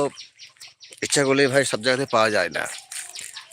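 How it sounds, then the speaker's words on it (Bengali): Birds calling in a Bengali village, heard from beneath a tree: faint, scattered chirps in the background, mostly under someone talking close by. "শুনতে পাচ্ছ কেমন পাখির ডাক"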